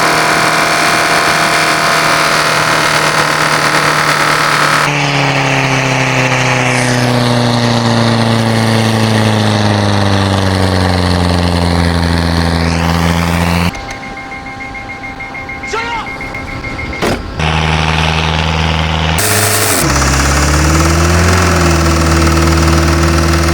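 An old 1980 Caterpillar engine in a truck runs loud and close with a heavy knocking throb, its pitch sagging and rising with the revs, then dropping off briefly before it roars back.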